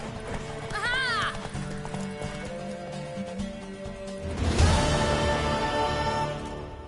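Rhythmic hoofbeats of a horse galloping in a PS4 video game, a close steady clip-clop with a high neigh early on, game music and voices underneath, and a surge of louder hoof noise partway through.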